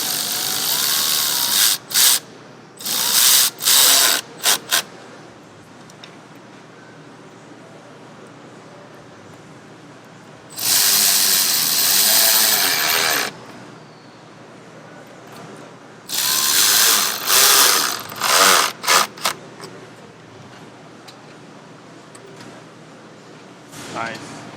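A power tool snugs down bolts on a cold air intake for a 2023+ Ford Power Stroke diesel truck, giving loud whirring bursts of a second or two, several in a row with longer runs between, close up and alternating with someone talking.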